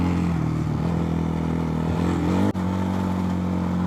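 A Templar M motorcycle being ridden, its engine holding a steady droning hum with wind rush, heard close and loud throughout, with one brief dropout midway.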